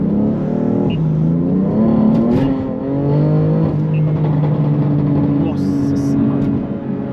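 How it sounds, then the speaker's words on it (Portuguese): BMW M3 Stage 2 with a downpipe accelerating hard, its engine revving up through rising, falling and re-climbing tones, loud and close, with a brief shout near the end. "Que eu vou dar uma acelerada monstra aqui."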